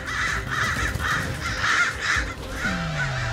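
A crow caws repeatedly in a steady series of harsh calls, fairly close, over a low rumbling background, with a falling tone near the end.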